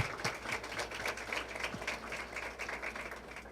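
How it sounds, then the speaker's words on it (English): Audience applause at a school parent volunteer awards ceremony, steady dense clapping from a crowd lasting throughout, moderately quiet and without speech. "A round of applause for them."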